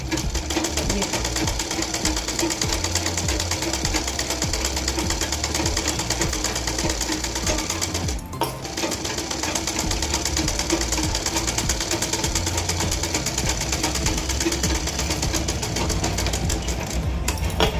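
A sewing machine stitches the side seam of a cross-cut blouse with a fast, steady mechanical whirr and rapid clatter, close and loud, running almost continuously with one brief slowdown midway.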